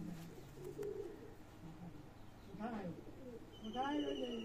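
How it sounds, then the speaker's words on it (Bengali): A male Pakistani high-flying pigeon gives a couple of short, soft coos close by, one midway and one near the end, over a quiet room with a voice speaking nearby. "এটা হচ্ছে নর, এটা নর কবুতর।"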